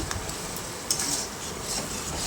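Potatoes, part of a large batch of aloor dum, are stirred and sautéed in a pan, giving a continuous dense hiss of frying with faint scraping.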